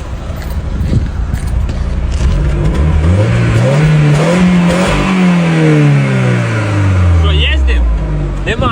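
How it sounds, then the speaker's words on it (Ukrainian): A pre-2005 car with a 1.8T engine and cable throttle revs hard near its exhaust, the engine note climbing, holding and falling in loud sweeping waves, with voices faintly beneath. "Давай я буду газувати, де я показую вихлоп."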